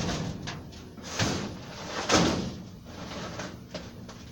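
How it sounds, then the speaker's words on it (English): A household door pushed shut at close range: a soft rustle and thump, then a louder latching knock near the middle, followed by quiet room noise. "Let me shut my door here real quick."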